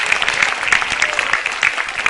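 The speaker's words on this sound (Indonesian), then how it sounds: "Tepuk tangan buat Metro TV." Audience applause at a Raditya Dika and Cak Lontong stand-up comedy show, a steady dense patter of many hands clapping throughout, fairly loud with no talk over it.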